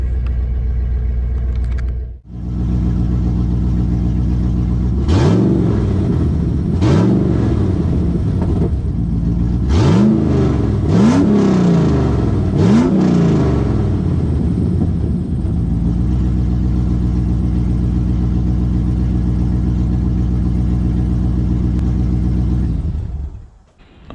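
A long-dormant LS1 V8 fitted in a Nissan Patrol cranks and catches, settles into a loud, deep idle, and is blipped through about five sharp revs before falling back to a rumbling idle, close by with no talking.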